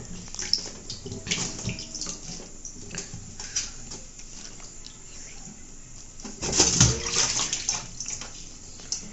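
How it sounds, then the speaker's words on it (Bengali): Running tap water pours over cauliflower and potatoes being washed in a home kitchen, a steady close splashing that grows louder for a moment near the end, with no talking. "ফুলকপিগুলোকে ভালো করে ধুয়ে নেব। বন্ধুরা, এগুলো আমি এখন ধুয়ে তুলে নেই।"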